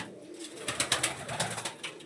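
Pigeons cooing in a pigeon loft, a soft run of repeated throaty coos and rustles, faint and close, with no talk.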